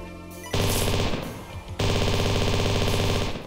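Hornet gun in the video game Nightmare Reaper fires in two loud, dense rapid-fire bursts separated by a short pause, with a harsh, rattling automatic-weapon texture close up.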